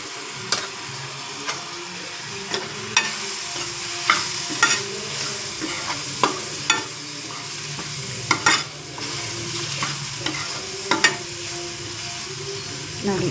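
A gravy with pepper powder and spice powder is stirred in a frying pan, with a steady sizzle beneath repeated scraping clicks and taps from the spoon.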